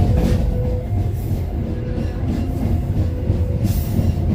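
A train pulls into Rejosari station in Indonesia with a loud, steady, close rumble of wheels and carriages that continues without break and without voices.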